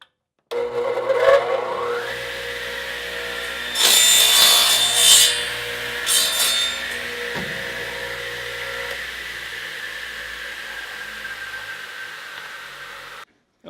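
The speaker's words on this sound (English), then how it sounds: "Okay, so we changed the saw to 45 degrees to cut the miters." A power saw tilted to 45 degrees cuts wood miters for a photo booth build: the motor spins up, a louder harsh cutting burst bites through the board mid-clip, then the blade whines down, close and loud with no talk.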